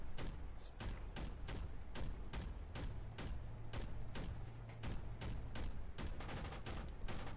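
Gunfire in the military shooter game Project Reality: rapid, evenly spaced shots and short bursts crack throughout over a low steady hum, sounding fairly close.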